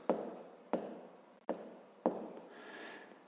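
Pen or chalk marks being written out for a fraction in a fifth-grade maths lesson, four distinct sharp taps and strokes spaced under a second apart, close and quiet, with no talk.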